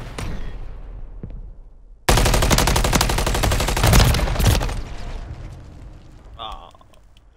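Gunshots ring out in the video game Call of Duty Modern Warfare III: a few scattered shots, then a sudden sustained burst of rapid automatic fire lasting several seconds before tapering into sparser sounds.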